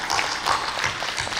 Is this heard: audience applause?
yes